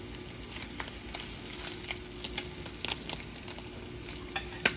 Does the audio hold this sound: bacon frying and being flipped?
yes